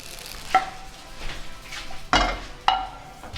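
Fried guanciale being stirred into spaghetti for carbonara in a pan: soft wet scraping and a faint sizzle, broken by a few sharp clinks of utensil against pan, close and without talk.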